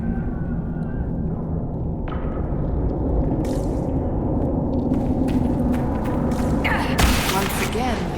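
Muffled explosions rumble through an underground ruin in Dragon Age Inquisition, a steady dense boom with scattered thuds and a sharper blast near the end.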